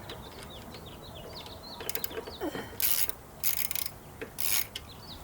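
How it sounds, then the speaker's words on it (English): Ratchet wrench clicking while pulling the horn bracket off a 2021 Harley-Davidson Iron 883, heard as close bursts of quick metallic ratcheting with brief scraping in between, alone without talk. "he said he was only getting one click on the ratchet"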